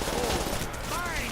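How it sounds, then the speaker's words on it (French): Rapid gunfire from the Call of Duty: World at War video game on a custom map crackles as a brief, dense burst of shooting at steady loudness. "Je vois vos balles passer, puis j'entends des titiou, titiou."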